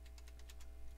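Rapid, light keystrokes on a computer keyboard, a quick regular patter of about a dozen taps in one second over a low steady hum.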